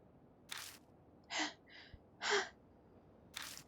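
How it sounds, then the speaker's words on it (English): Shaky, gasping breaths in the Death Mark horror game: a handful of short, separate breaths and gasps spaced out in near silence, close and quiet. "The only sound left is that of our shaky breathing."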